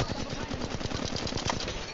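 Rapid automatic gunfire in the mobile battle royale game Apex Legends Mobile, a steady stream of quick shots at moderate loudness for the whole two seconds.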